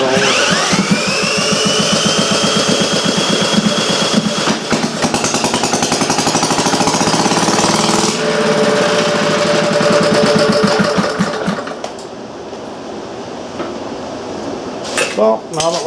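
Antique Briggs & Stratton Model A engine with a pipe fitted as exhaust, firing and running with a loud, rapid, clattering mechanical chug close by, then cutting out and winding down into quiet near the end.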